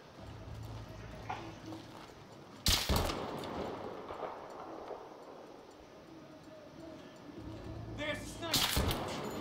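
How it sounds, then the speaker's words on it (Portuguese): War tank cannon fire in Battlefield 3, two loud heavy blasts several seconds apart over a background of scattered gunfire and battlefield noise, with someone talking at times. "Cara, eu acho que é um tanque de guerra que tá atirando."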